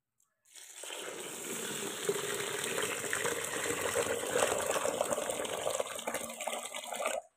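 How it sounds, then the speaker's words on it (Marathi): Water is poured onto sorghum grains in a container to soak them, a continuous close gushing and splashing stream lasting several seconds before stopping abruptly. "आता मी पाणी ओतून घेते ज्वारीमध्ये।"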